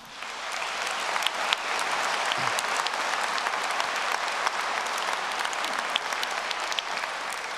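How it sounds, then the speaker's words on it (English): A large crowd at a university graduation ceremony applauds continuously, a dense, even wash of clapping that holds steady throughout with no voices over it. "A resounding round of applause to all university staff for their tireless contributions."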